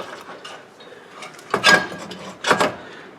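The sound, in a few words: ratchet tightening brake caliper bolts on a Toyota Camry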